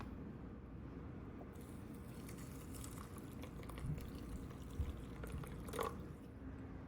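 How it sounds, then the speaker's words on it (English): Water poured into a container of oatmeal and flax seeds before microwaving, a soft steady liquid wash with a brief gurgle and splash near the end, heard close against a constant low hum. "So we're just gonna put some water in there"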